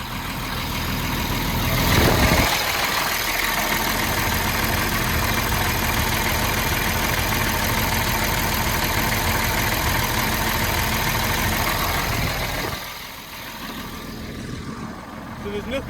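A car engine with fouled spark plugs, bad wiring and fuel pressure trouble idles steadily and loud close up, a continuous drone that eases slightly near the end.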